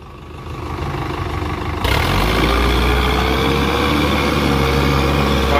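An ACE tractor hauling a heavy load through deep mud, its engine droning steadily and then rising to a louder, deeper strain partway through, holding that heavy labouring roar to the end.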